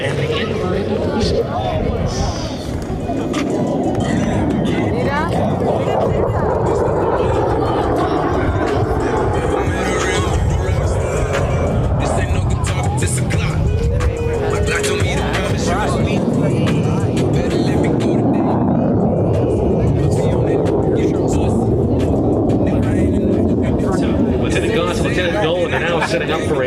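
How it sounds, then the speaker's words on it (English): A Boeing F/A-18 Super Hornet jet roars past during an airshow demo flight at Nellis Air Force Base, a loud, continuous rumble lasting throughout with an announcer's voice talking over it. "Inbound from the left, it is the Super Hornet and the inverted nose."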